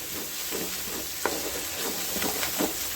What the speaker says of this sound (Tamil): நல்லா இது கூட நல்லா மிக்ஸ் பண்ணுங்க.